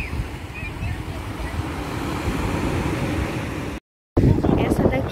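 Surf washing onto the sand at Praia de Meaípe, a beach in Brazil, a steady broad roar with wind noise buffeting the microphone, briefly cut out before returning louder near the end.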